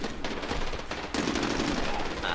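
A handgun with infinite ammo firing in the Medal of Honor video game: rapid gunfire bursts in quick succession, loud and close, with a brief gap between volleys.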